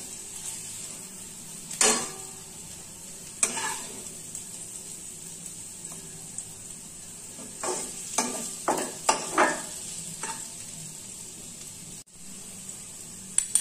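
Onions browning in a pan over medium heat, a soft steady sizzle close by, interrupted by several sharp knocks and scrapes of a spoon against the pan.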